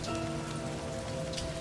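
Rain in the psychological horror visual novel Livber: Smoke and Mirrors, a dense, continuous patter of drops with a low steady hum beneath, no voices.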